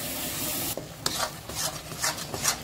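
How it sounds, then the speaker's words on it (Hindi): Masala mixed with poppy seed paste fries in a pan while being stirred, a close hissing sizzle broken by repeated scraping strokes of a spoon. "पोस्ते के पेस्ट को मैंने इसमें मिक्स कर दिया है और अब मैं इसको भी भून लेती हूँ।"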